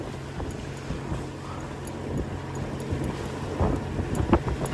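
A damaged sail flaps in the wind aboard a sailing boat crossing the Aegean, giving irregular soft fluttering slaps over steady wind rumble and water noise, with a few sharper snaps toward the end.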